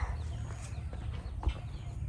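Chickens on a farm behind a house cluck in scattered, faint bursts over a low background hum, with no one talking.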